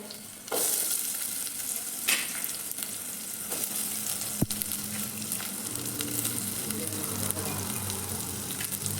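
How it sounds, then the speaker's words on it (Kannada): Onions sizzle and fry steadily in a pan for an egg sambar, a dense continuous crackle with occasional scrapes of stirring, close and fairly loud, no voices present. "ಈರುಳ್ಳಿ ಹಾಕ್ಕೊಂಡು ಚೆನ್ನಾಗಿ ಫ್ರೈ ಮಾಡ್ಕೊಳ್ಳಿ"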